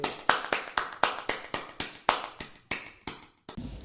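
Hands clapping in a steady rhythm, about a dozen sharp, close claps, slowing slightly toward the end and stopping, with no voices.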